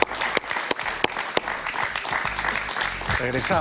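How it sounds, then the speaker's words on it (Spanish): An audience applauds loudly with dense, sustained clapping, while a voice speaks over it near the end. "Un gran aplauso"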